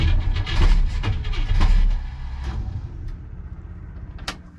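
Starter cranking the engine of a 1957 car fitted with Fitech EFI on a cold start, a loud rhythmic churning for about two seconds that fades into a lower, uneven mechanical rumble.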